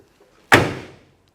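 Passenger side door of a 1967 Chevrolet Camaro convertible with deluxe interior shutting once, a single sharp close and a short decaying rattle, near and alone.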